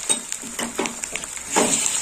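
Ginger paste and green chili paste being stirred in a frying pan with garlic for a Bengali fish head and cauliflower dish: a soft steady sizzle under a run of quick rhythmic scraping strokes of a spoon on the pan.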